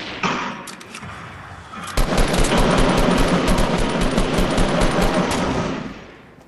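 Rapid bursts of gunfire in a Fortnite Battle Royale squad match, loud and dense automatic shooting rattling for several seconds before fading out.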